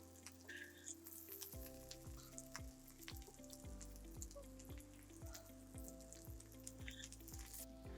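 Broccoli stuffing with cheese shallow frying in a pan, giving a steady close sizzle with crackling bursts and faint stirring, no voices over it.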